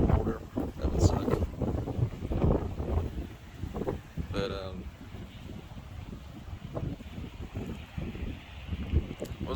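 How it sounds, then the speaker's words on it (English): Strong gusting wind buffets the microphone at a black sand beach, low rumbling bursts rising and falling, with a person speaking briefly through it. "Holy cows, it's so windy."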